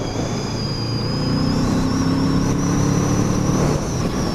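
A 2019 Kawasaki Z650 motorcycle engine running steadily, a loud, continuous drone with a whining high tone that rises slightly partway through, heard close and alone without talk.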